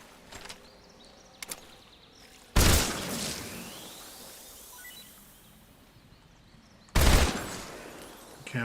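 AK rifle fire in Metal Gear Solid Delta: two sharp, loud bursts of gunshots several seconds apart, each ringing off into a decaying tail over a quiet game ambience.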